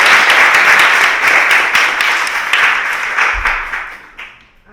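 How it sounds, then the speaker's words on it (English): Audience applause at a community gathering, a dense wash of clapping that holds steady and loud before thinning and fading out toward the end. "So just give him another round of applause."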